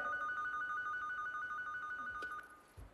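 A telephone rings during a stage comedy sketch, a steady electronic ring tone held for a few seconds before cutting off, with a faint thump at the end.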